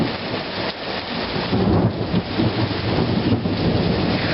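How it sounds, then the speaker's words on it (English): Thunderstorm in Indiana with heavy rain pouring steadily and thunder rumbling through it, a continuous dense wash that swells in places, loud and close. "Just so you can see the wonderful storm that we're getting."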